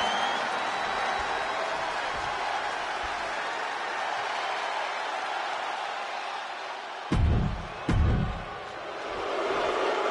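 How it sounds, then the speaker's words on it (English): A large arena crowd in the wrestling video game WWE 2K24 gives off a steady, dense roar of cheering, with two brief louder surges near the end. "Listen to that crowd!"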